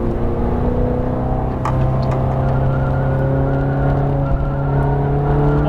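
A Ferrari F430 Scuderia accelerating hard on the Las Vegas Motor Speedway track, its engine a loud sustained rising drone heard from inside the car, with no talk over it.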